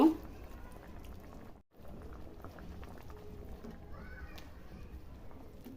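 Curry gravy for a jackfruit and prawn dish coming to a boil in a cooking pot, a soft, steady bubbling and simmering, fairly quiet, with a brief break near the start.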